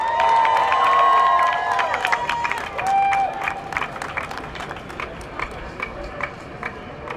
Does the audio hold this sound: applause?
yes